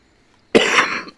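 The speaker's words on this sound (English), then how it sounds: "Didn't mean to cough in your ear." A single close, loud cough from a radio host during a live news stream, sharp at onset and trailing off over about half a second, with nothing else around it.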